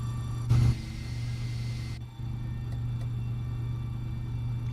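An MD-88's jet engines spool up during start in a flight simulator, heard as a steady low droning hum with a brief louder burst at the start and a slight dip before the tone settles.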